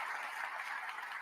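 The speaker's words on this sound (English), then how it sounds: "Please give them a round of applause." Audience applause at Atlanta Mayor Andre Dickens' State of the City address, a steady, even wash of clapping from a large crowd, fairly distant and filling the whole short stretch without voices.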